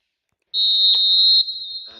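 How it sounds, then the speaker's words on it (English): The half-time referee whistle in the eFootball video game sounds as one loud, steady, piercing blast lasting about a second, followed by faint game crowd noise. "there is the half-time whistle"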